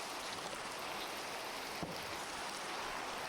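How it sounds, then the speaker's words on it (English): Steady rain falls in a survival video game, an even, soft hiss of continuous drops with one brief tap partway through, with no voices over it. "And it started raining."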